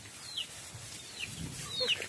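Chickens cluck and chirp quietly in a coop, with a few short squawks over low rustling background noise.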